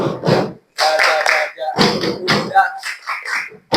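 Hands clap along to an Indonesian children's song about clapping when happy, sharp, close claps that fall between and under loud sung voices, with a brief pause partway through.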